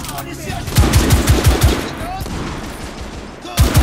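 Gunfire from The Order: 1886 comes as a rapid burst of close, loud shots, with another burst at the end, over game sound and background noise.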